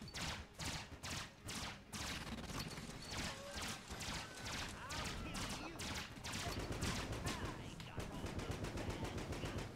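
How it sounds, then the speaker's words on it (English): Rapid, steady gunfire from the bullet-hell game Enter the Gungeon, continuous and dense with small zaps and pops layered over a constant background of game noise. "I'm just gonna stand here and reflect your bullets back at you, bud."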